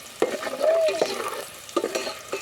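Whole spices such as cinnamon and cloves, along with cashews and raisins, fry in a pot for egg biryani. Loud, close spoon scrapes and clatters cut through a soft crackling sizzle, with one brief squeak.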